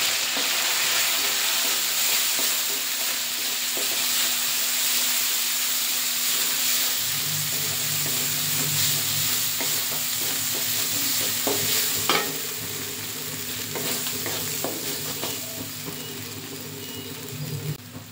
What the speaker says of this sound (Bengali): টমেটোটা ভালো করে কষানো হয়ে গেছে, এবার হলুদ আর লঙ্কা গুঁড়ো দেব